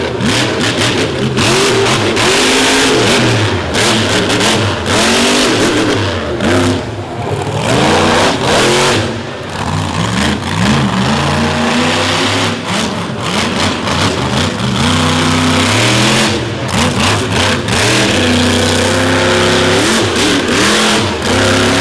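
Monster truck engines with zoomie exhaust headers roar and rev hard at a monster truck show, loud and close, with repeated rising and falling throttle blasts that overlap throughout.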